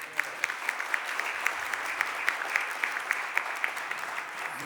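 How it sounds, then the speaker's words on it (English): A chamber full of people applauds during a Philadelphia City Council meeting, with continuous mid-level clapping and a few sharper individual claps standing out above the steady patter. "Let's give them a round of applause"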